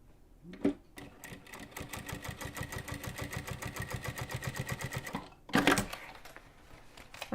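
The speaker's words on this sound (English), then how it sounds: "I'm actually just going to baste it really quick." A sewing machine runs a quick basting stitch through foam on a handmade bag, producing a steady rapid mechanical chatter for about four seconds, with clunks of handling before and after it.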